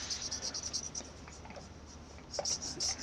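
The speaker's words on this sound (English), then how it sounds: "Just like the sound of a nib on paper." A pen nib scratching across paper in short, quick strokes, soft and close, against a faint background hiss.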